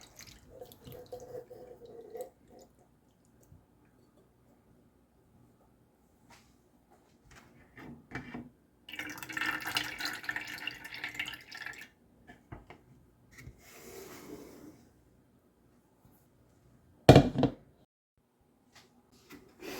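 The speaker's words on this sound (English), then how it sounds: "I'm going to drain both of my cans of fruit cocktail to make sure they don't have any juice in them." Juice draining from canned fruit cocktail through a strainer into a sink, soft intermittent trickling and splashing in quiet bursts, with a sharp clunk of the can or strainer near the end.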